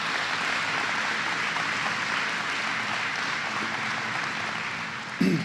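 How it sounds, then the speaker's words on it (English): An audience at a governor's announcement event gives sustained, dense applause that sounds like steady rain, ending with a brief thump. "Let's give them a round of applause."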